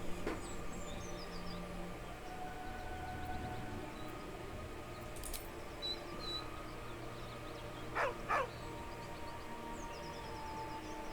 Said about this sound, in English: With a deep, heartbroken whine, the dog bows his head. He whines, but remains rooted by the corpse's side.